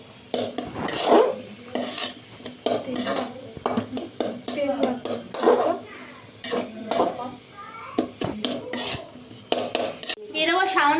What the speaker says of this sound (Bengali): জিরের গুঁড়ো, এগুলোকে মিক্স করে নেবো ভালো করে।